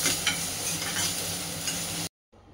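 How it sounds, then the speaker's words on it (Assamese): Ginger-garlic paste frying with onions in a pan, a steady loud sizzle with stirring noises that cuts off abruptly near the end. "আৰু এতিয়া দি দিছোঁ ইয়াতে মই আদা নহৰুখিনি"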